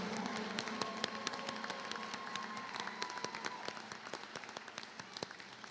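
Scattered, fairly quiet clapping from a graduation audience rises for the top ten scholars of STEAM High's Class of 2021. Individual claps stand out in a loose rhythm that thins slightly toward the end.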